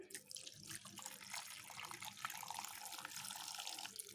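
Water is poured from a tap into a pot of stewing food seasoned with bay leaf and pepper, a faint steady splashing stream, close by.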